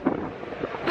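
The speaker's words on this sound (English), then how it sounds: "it's windy and it's cold" Cold wind gusts buffet the microphone outdoors with a steady, close, rumbling roar that swells slightly near the end, with no other clear sounds.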